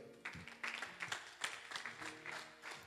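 A church congregation claps in praise at the end of a Sunday night service, a loose, uneven run of hand claps at moderate distance and fairly faint, with a few scattered voices mixed in.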